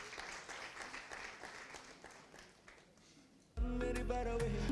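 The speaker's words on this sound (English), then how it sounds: "Big round of applause as she comes up." Audience at a pan-African conference on taxation applauding as a speaker comes up, steady clapping that then gives way to a sudden loud amplified hum.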